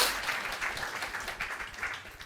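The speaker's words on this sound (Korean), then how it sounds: "큰 박수로 감사드리겠습니다" A congregation at a Sunday church service breaks into a short burst of dense, steady applause, many hands clapping together without a pause, with no talking over it.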